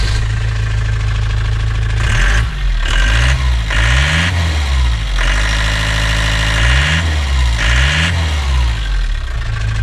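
A car starter motor spins on a bench test, a loud mechanical whir with repeated pitch swoops as it speeds up and slows down in bursts, close by and with no talking.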